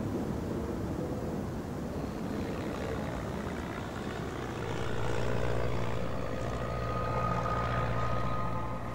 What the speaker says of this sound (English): I hear this plane, he's above me.